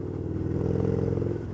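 Victory Gunner motorcycle engine pulling hard on acceleration, a steady loud rumbling drone with dense low harmonics that holds for over a second before easing off slightly.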